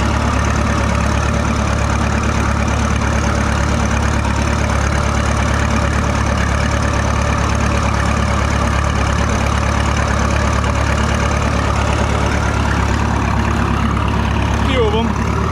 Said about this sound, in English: These are the tractors we're taking on the tractor ride.